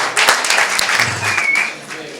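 Audience applause at an outdoor village event in Ollolai, awaiting the Palio degli Asinelli donkey race; a burst of clapping from a crowd with some voices mixed in, and a brief low hum partway through.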